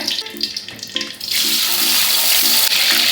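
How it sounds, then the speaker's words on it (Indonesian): Tofu hits hot oil in a pan while laksa is being made, and a loud, steady sizzle takes over after a quieter opening and continues without break. "Oke, kita tunggu sampai minyaknya panas, baru kita masukkan tahunya."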